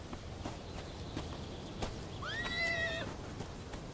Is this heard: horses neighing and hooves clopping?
yes